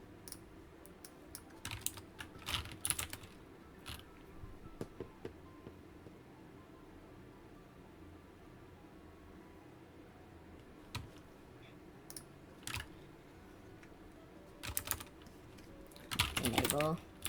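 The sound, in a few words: typing on a computer keyboard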